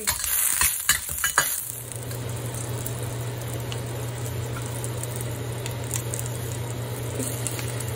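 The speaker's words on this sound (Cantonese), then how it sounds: "炒一炒啲豬肉先。" Marinated pork slices sizzle loudly in a hot wok with ginger and garlic, with quick scraping stir strokes at first, then a steady, continuous frying hiss.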